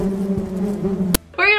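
Bees buzz in the Roblox Bee Swarm Simulator game, a steady droning hum with a sharp click before a brief, higher tonal sound.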